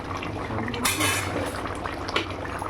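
A cooking pot of fish curry with taro being lifted off the stove, with a metallic clank of pot and utensil, light scraping and a soft liquid slosh, close and fairly loud.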